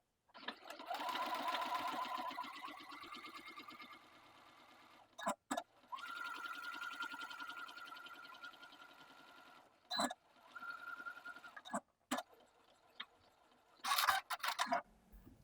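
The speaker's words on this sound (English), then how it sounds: "edge stitch along the folded edge of each one" A sewing machine edge stitches along the folded edge of a patch pocket in quiet bursts: a long run, a short one, then several brief stops and starts with clicks between them.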